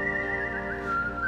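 A clear, steady whistled melody from the Over the Garden Wall soundtrack rides over sustained musical accompaniment, bright and prominent throughout.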